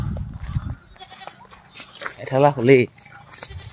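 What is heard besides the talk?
goat bleating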